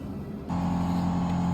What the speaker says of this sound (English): Sorry about the noise of the compressor going all the time.